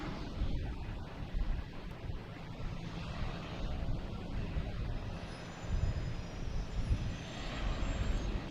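An airliner landing at Boston Logan Airport gives a low, broad jet-engine rumble that swells and fades across the whole stretch, with wind buffeting the microphone outdoors.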